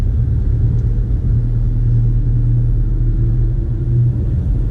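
A Porsche crawling in second gear at about 7 mph through a multi-storey car park gives a steady, close, low engine rumble that holds evenly throughout.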